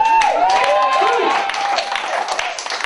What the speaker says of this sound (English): give a round of applause for interracial